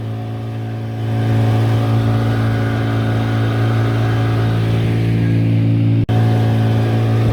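A car engine drones steadily from inside the cabin during a long drive, a loud low rumble that swells slightly after the first second, with a single sharp knock near the end.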